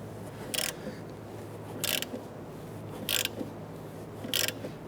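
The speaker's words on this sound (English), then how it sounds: "You want to make sure that your ball joint is being pressed in evenly" An upper ball joint on a 2011-2021 Jeep Grand Cherokee front suspension is pressed in with a press tool, giving four evenly spaced, sharp ratcheting clicks over a low, steady background.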